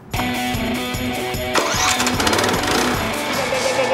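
A pressure washer's engine starts with a push button and roars into a loud, steady running drone, with clattering mechanical pulses throughout.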